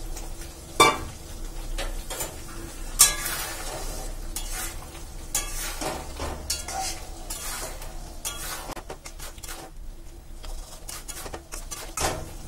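Chilli egg sauce bubbles and sizzles in a pan as eggs are added, with repeated sharp scraping strokes and clinks over a steady frying hiss.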